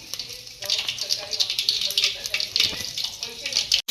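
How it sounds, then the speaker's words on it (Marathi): Cumin seeds sizzling in hot oil while masala rice is being prepared, a bright steady crackling hiss with small popping bursts, heard under someone talking. "जिरे चांगले तळतळू द्यायचे आपल्याला"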